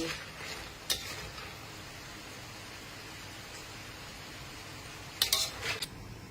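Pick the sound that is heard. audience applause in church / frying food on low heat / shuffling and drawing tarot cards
frying food on low heat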